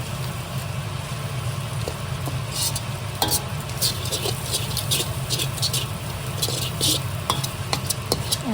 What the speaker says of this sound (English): You want to add a little bit by a little bit so that you can fry it up